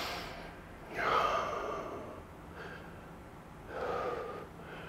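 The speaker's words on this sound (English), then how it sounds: "Big deep breaths." Deep breaths during a stretching exercise: two or three slow, audible inhales and exhales, close to the microphone, with quiet pauses between them.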